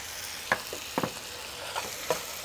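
Tomatoes with a little salt cooking in a pan, giving a soft steady sizzle broken by several short stirring scrapes at a loose, uneven rhythm, close up with no talking.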